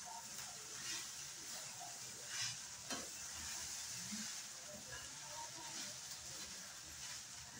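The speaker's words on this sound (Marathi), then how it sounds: "आता 10 मिनिटं झाले, तर आपण आपली पोहे परतून घेऊया" Steamed poha is stir-fried in a pan, giving a faint, continuous sizzle and hiss with soft scraping strokes of a spoon.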